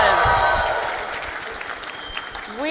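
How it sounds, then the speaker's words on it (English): An audience at a global startup competition final in London applauds, a broad wash of clapping that fades under a voice and a tonal musical sting near the start. "Let's give them one more round of applause."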